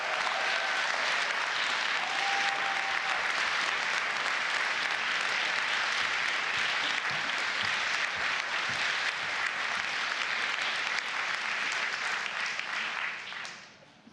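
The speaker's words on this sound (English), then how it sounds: "if we can just give the most almighty round of applause to the Global Citizen team" Long, energetic round of audience applause at a gathering on defeating poverty and protecting the planet, dense clapping sustained for over ten seconds before trailing off abruptly at the end.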